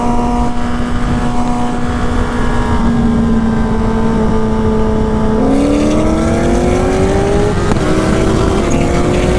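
Turbocharged Hayabusa motorcycle racing cars on a highway pull, engines droning steadily with rising pitch sweeps as revs climb, a brief shift break near the end, loud and continuous with no talk.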